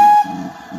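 A short, loud whistle blast from the Lady of Legend steam locomotive on the NVR heritage railway, up close, gives way to the rolling rumble of the moving train.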